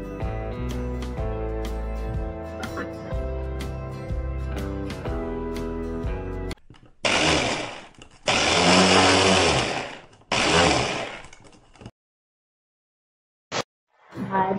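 An electric blender grinds garlic, ginger, green chilli and coriander into a paste. It comes in loud whirring bursts after a stretch of music, stops briefly, then gives one or two short final pulses.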